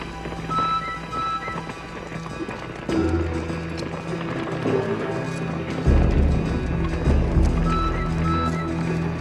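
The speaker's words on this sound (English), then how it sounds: "then the pounding hooves on the hard ground" Horses gallop hard across hard open ground, a dense, steady pounding of many hooves that builds louder and closer over nine seconds, with a few whinnies mixed in.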